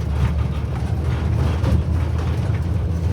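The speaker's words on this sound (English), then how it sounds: "the van is very rattly and squeaky and stuff" A rare Daihatsu Mira Michito van drives over a pothole-filled road, giving a loud steady interior rumble with low road roar and faint rattles throughout, no voices.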